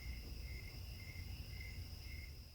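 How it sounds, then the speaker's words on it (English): Crickets chirp steadily at night from a three-season porch, a continuous high trill with a low background hum and no talking. "listening to all the crickets and frogs singing in the background"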